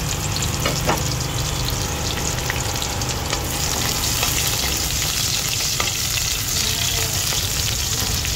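Garlic and onion fry for sinigang with a loud, dense, continuous sizzle in a hot pan, broken by a few stirring clicks and no talk.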